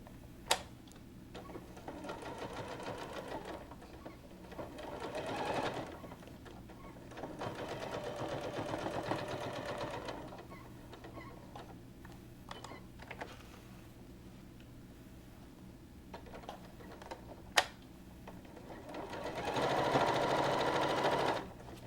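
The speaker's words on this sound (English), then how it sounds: "we'll sew all the way around until we finish" A sewing machine stitches around pinned fabric pieces in several rapid, whirring bursts separated by quieter pauses with small mechanical clicks and ticks, all heard close.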